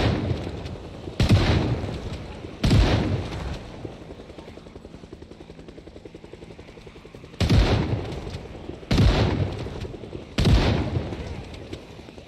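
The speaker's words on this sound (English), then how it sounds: "That is a loud gun." Loud gunshots in the Project Zomboid video game, five heavy blasts spaced a second or two apart, each with a long booming tail over a steady background hum.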